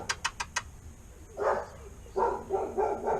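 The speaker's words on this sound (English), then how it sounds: "Daft dog." A dog barks nearby in a garage workshop, four quick sharp yaps followed by a few deeper, longer woofing barks.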